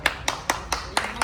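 Six sharp hand claps at a steady, even rhythm, close and moderately loud, with no talking over them.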